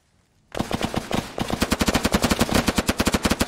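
Rapid bursts of automatic gunfire in the video game Arma 3, loud and close, starting after a brief silence and continuing as a steady rattling stream of shots.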